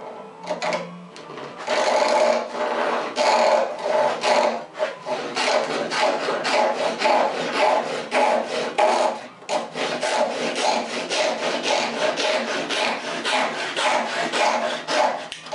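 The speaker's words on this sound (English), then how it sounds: "I'll saw a piece of stock here" Hand saw cutting through a piece of 3/8-inch square wooden stock clamped in a vise, a steady rhythmic run of rasping back-and-forth strokes, close and loud, continuing with only a brief pause and no talking.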